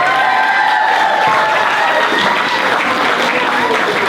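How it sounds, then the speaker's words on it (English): Wedding reception guests applaud loudly with some cheering mixed in, a dense, sustained round of clapping that stays strong for the whole stretch. "another round of applause as he takes off."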